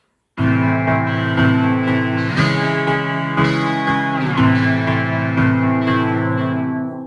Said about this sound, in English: I can put it on sine wave instead of square, and I get a lot more of a smoother type of up and down effect.